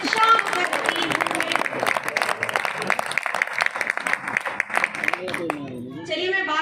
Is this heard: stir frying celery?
no